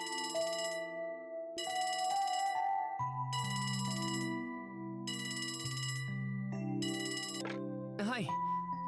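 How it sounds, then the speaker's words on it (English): In the video game Trails From Zero, a communicator phone rings with repeated electronic bell bursts in a steady on-off pattern over a sustained synth music bed, loud and close, ending in a short rising chime. "Hmm? A phone call?"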